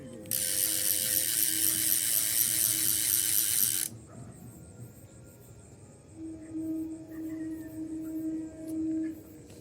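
A fishing reel ratchet buzzes in a dense, loud rapid clicking as line runs out to a silver carp at a pond, then cuts off abruptly and leaves quieter whirring.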